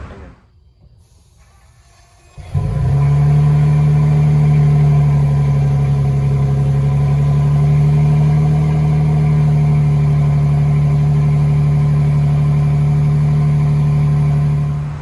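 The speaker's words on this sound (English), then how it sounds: "But record a cold start." A 2022 Toyota Tundra TRD Pro with its factory TRD Pro exhaust fires up from cold after a brief quiet moment, then holds a loud, steady low idle close to the microphone with no one talking.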